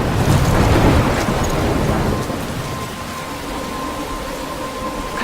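A thunderstorm in the video game Life is Strange: a loud roll of thunder fades into steady, heavy rain falling on surfaces, with no voices.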